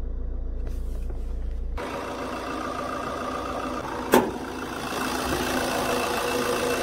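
A clean car engine idles with a steady, close rumble after a brief low hum at the start, and a short sharp knock cuts through midway.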